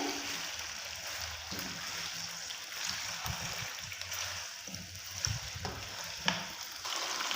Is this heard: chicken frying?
yes